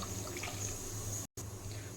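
Water pours into a pot of mutton marinated with spices and refined oil, a soft, faint trickle that runs steadily and cuts out for a moment before resuming.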